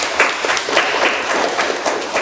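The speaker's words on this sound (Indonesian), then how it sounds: "Ya, tepuk tangan dulu ya." Classroom applause during a lesson: dense, steady clapping from a group, fairly loud and continuous, lasting about two seconds.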